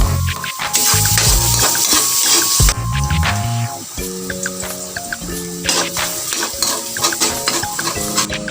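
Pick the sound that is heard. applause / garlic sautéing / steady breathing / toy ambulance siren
garlic sautéing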